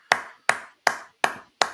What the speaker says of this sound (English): Round of applause for our government